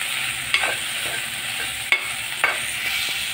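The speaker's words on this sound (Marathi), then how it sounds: "बघा, भेंडी परतून झालेली आहे हळद मिठामध्ये।" Okra stir-frying with turmeric and salt in a pan, a steady close sizzle broken by three sharp utensil scrapes and clicks spaced about a second apart, with no voices.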